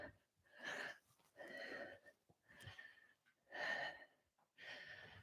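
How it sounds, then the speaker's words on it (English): A pilates instructor in a cardio workout breathes heavily and audibly, with five strong gasping breaths at a regular rhythm, close and fairly quiet with no talk. "You can hear me breathing, right? So you know I'm out of breath as well."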